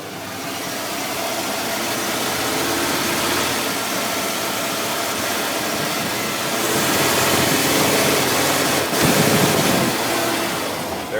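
A Ford E150 van's 351 V8 idles with a stuttering, stall-prone fault, a steady broad rumble with a rough surge and a sharp hiccup near the end, heard close alongside wind noise.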